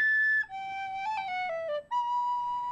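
A tin whistle plays a short run of clear, held notes that step between pitches, with brief breaks between phrases, close and alone without talk.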